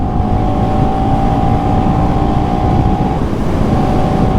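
KTM Duke 250 motorcycle engine drones loud and steady while riding, a constant close hum with a brief dip near the end.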